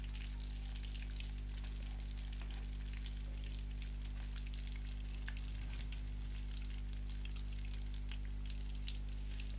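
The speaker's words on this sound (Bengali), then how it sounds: "দুই পাশে উল্টিয়ে পাল্টিয়ে ফ্রাই করে যখন এটা গোল্ডেন কালার হয়ে আসবে" Pre-boiled chicken fries in oil in a pan over medium-low heat, a steady crackling sizzle with scattered pops and a constant low hum underneath, with no talking.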